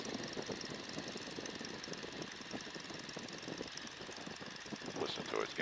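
Boeing Stearman N2S-3 biplane in flight, its engine a steady loud drone mixed with wind rush, continuous and close throughout without pauses.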